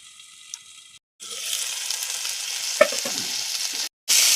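Chopped chillies sautéed in a pan, giving a close sizzle with a few scrapes of a stirring spoon, broken by short gaps of silence, with no talking.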